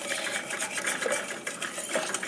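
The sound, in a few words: whisking cocoa mixture in a pot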